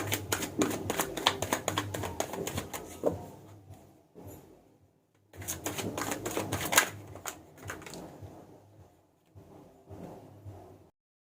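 Tarot cards are shuffled by hand in two bursts of quick, close riffling and flicking, each trailing off into soft handling, with a short quiet gap between them.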